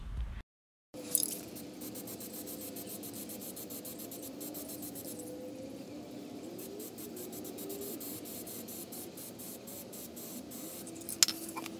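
Black spray paint hisses from an aerosol can onto a taped-up radiator in long, steady bursts, with a click or rattle before spraying starts and a few short spurts near the end.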